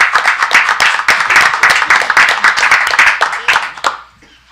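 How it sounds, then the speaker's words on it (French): A modest group at a municipal council session claps for a performance, with crisp individual handclaps close by in a steady patter that stops abruptly near the end. "Je pense qu'on peut l'applaudir."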